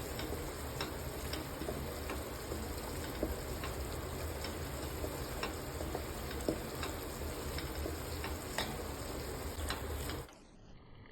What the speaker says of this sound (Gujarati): આમાંથી આપણે ઘી છૂટું પડી જાય ત્યાં સુધી આને શેકાવા દેવાનું છે.